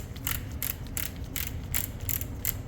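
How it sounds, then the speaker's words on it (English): A 30-odd-year-old torque wrench is clicked back to zero, giving a steady run of about seven sharp ratcheting clicks at even intervals over a low mechanical hum, close by and with no voices. "So always bring your torque wrench back to 0 and you're done."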